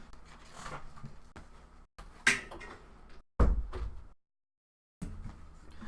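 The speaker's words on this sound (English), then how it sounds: "let me close the door." An indoor door is shut partway through, with a sharp thud of the latch and a brief rattle, followed by a moment of near silence before the room tone returns.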